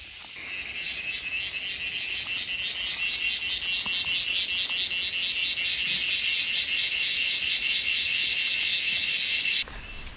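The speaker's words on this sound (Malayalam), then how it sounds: "നമ്മൾ ചെവിയരടിച്ചു ചീവീടിൻ്റെ ശബ്ദം കേട്ടോ." Cicadas drone in a forest near a hill, a loud, dense pulsing buzz that holds steady for several seconds and then stops abruptly near the end.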